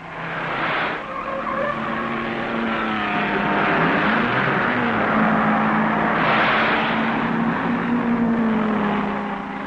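1950s Jaguar and Ferrari race cars roaring around a circuit, a loud, sustained engine wail with shifting pitch and a faint tyre squeal, swelling as the cars pass close by.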